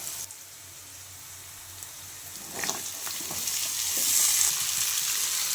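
Pieces of ivy gourd are tipped into hot oil with fresh-pounded spices for dhondakaya fry, a close, crackling sizzle that swells louder after a few seconds, with light stirring scrapes and no talk.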